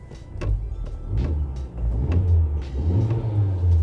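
A cold car engine at an Australian car auction revs up and settles in a few surges, with rumbling low tones and sharp clicks on top, close by.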